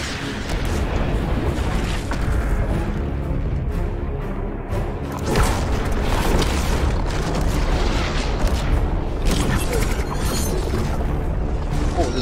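Rockets launch and burst during the Fortnite Season X final event, a dense continuous wash of loud booms and blasts layered over one another with no pauses.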